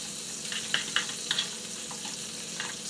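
Butter melts in a skillet turned down to low heat, giving a soft, quiet sizzle with a few small pops and crackles over a low background hiss.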